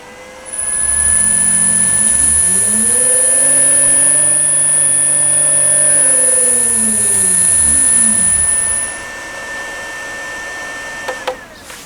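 A new three-phase motor on a variable frequency drive spins up on a Myford ML7 lathe, its whine rising smoothly in pitch, holding steady, then winding back down before stopping, with a constant high electronic tone over it.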